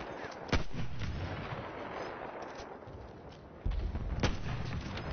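Rifle shots in the World War I shooter Battlefield 1, two sharp loud cracks several seconds apart over a dense rumbling battlefield background, each followed by a short echoing tail.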